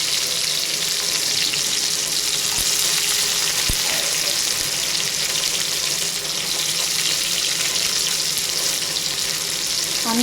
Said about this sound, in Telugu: దాని తర్వాత మనము ఆనియన్స్ అనేది వేసేసుకోవాలి.